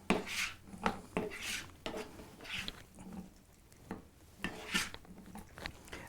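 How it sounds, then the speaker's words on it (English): Beans being folded into a watery vegetable sauce in a pot, soft scraping and knocking of a utensil against the pot in irregular strokes, fairly quiet. "So now we'll go ahead and add the beans. We'll stir these in."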